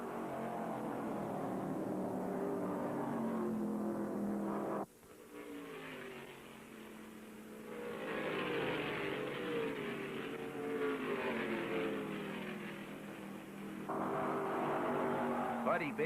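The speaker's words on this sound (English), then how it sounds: "tucks the big Mercury on the low side of Baker to slide into the lead" Stock cars, including a big Mercury, race in the 1974 World 600, their engines roaring and droning steadily at middle distance under race commentary, with a sudden drop in sound partway through.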